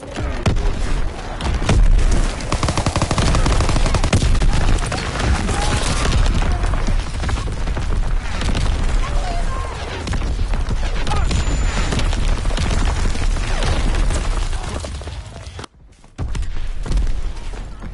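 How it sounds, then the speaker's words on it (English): Artillery fire in a WW2 video game: a continuous, dense barrage of booming explosions and crackling gunfire, loud throughout, with a brief drop-out near the end before the din resumes. "Artillery, get to cover."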